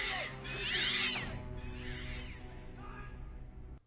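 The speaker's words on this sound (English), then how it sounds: "Wow, that's what the alarm sounds like." A cat-like caterwauling alarm from a Harry Potter film wails in loud rising and falling yowls that fade after about a second, then returns softer twice before cutting out abruptly.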